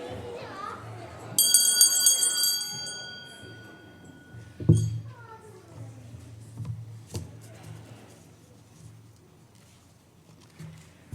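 A handbell rung at the start of a Sunday service at the Winchester Unitarian Society, giving a bright sustained ringing with clear overtones for about two seconds, followed by a thump, a quieter chime and people talking in the hall.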